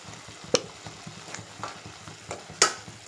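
Onion paste with chili powder fries in oil with a low, steady sizzle, broken by two sharp clinks of a spoon against the pan and softer stirring scrapes.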